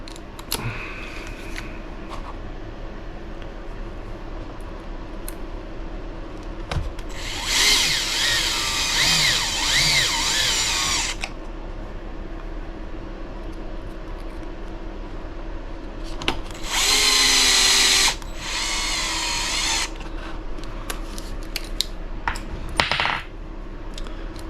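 Power tool whirs in two bursts while parts are mounted on an HB Racing E819RS RC car build, with small clicks and handling noises between them in a quiet room.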